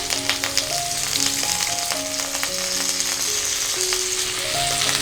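Cut ivy gourd (tindora) and potato pieces fry in hot oil for a Gujarati shaak, giving a continuous bright sizzle with scattered crackles while a melodic tune plays softly beneath and nobody talks.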